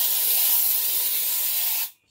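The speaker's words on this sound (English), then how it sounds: "I'm spraying Doom in all the rooms." Doom insecticide aerosol sprayed indoors through the rooms, a steady loud close hiss lasting about two seconds before cutting off abruptly.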